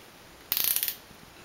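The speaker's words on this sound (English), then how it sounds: "It does still ratchet like a normal wrench" A SKIL cordless power wrench ratcheting by hand, heard as one quick close burst of about eight bright clicks lasting under half a second, followed by a couple of faint ticks.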